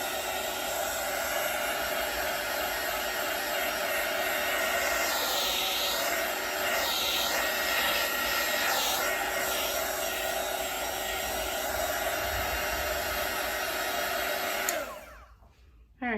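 A heat gun blows steadily over an acrylic pour painting, a loud continuous whooshing drone held for many seconds before cutting off abruptly near the end, with no talk.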